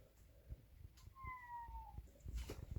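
A house cat gives a short, faint meow indoors, followed by a thin high whining tone, over quiet room noise and soft thumps.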